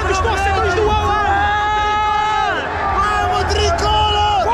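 Al Hilal supporters fill a stadium in Saudi Arabia at a Club World Cup match, a dense, loud crowd roar with chanting voices carrying steadily throughout.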